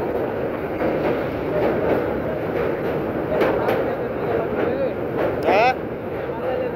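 Local train running on the railway bridge over the Titas river near Akhaura, a steady rumbling roll with rhythmic clatter and a brief squeal near the end, heard from on board with voices in the background.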